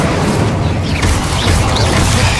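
Incendio fire spell cast in Hogwarts Legacy: a dense, loud roaring whoosh of flame with booming low rumble, sustained for a couple of seconds without a break.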